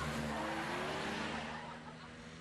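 A car brought around from a repair shop, its engine note loud and close at first with a faint tire squeal, then fading slightly as it moves away, with no talking.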